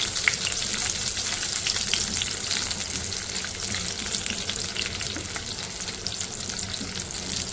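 Spices frying in hot oil in a pan, with peanuts to go in soon, give a steady, dense sizzle and crackle that holds at an even, close level throughout, with no talking.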